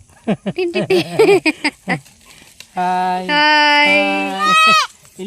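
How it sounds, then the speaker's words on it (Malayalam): A young goat kid bleats close up in long, wavering, high-pitched cries after a run of short rhythmic sounds, loud and clear. "നമുക്കൊരു ആട്ടും കുട്ടീനെ കിട്ടിയിട്ടുണ്ട്"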